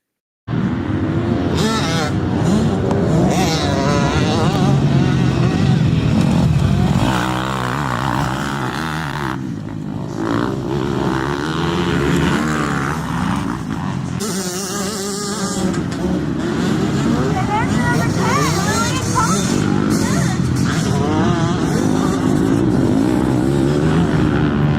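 Dirt bike engines rev and scream during a motocross race, loud and close with rising and falling pitch as riders accelerate and shift, a brief dip partway through before the roar resumes.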